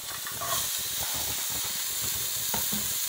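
Kale (couve) sautés in a hot pan with garlic, a steady loud hiss of steam and sizzle with small crackles, close by and without speech.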